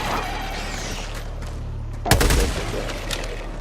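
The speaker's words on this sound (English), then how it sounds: "Bro, we're fucking shooting it." Gunfire at an alien in a video game firefight, a low steady rumble of shooting topped by one sharp loud blast near the middle that then tails off.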